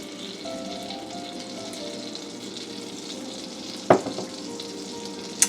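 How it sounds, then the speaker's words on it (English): Butter and oil sit in a hot pan and give off a continuous, moderately loud sizzle and hiss. Two sharp clinks or stirs break in, one midway and one near the end, and nobody talks. "we're going to add our butter into the pan, along with our quarter cup of oil"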